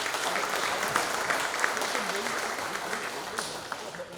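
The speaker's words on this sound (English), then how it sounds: "Let's give them another nice round of applause, please." An audience at a Bluefield Coal Show breakfast gives a sustained round of applause, dense clapping near and far, fading slightly toward the end, with a voice talking over it.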